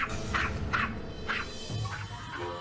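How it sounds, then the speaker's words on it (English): A neighbor's dog barks in a quick series of about five short, sharp barks and yips, fairly close and loud, with no one talking over them. "Mind shutting up your dog?"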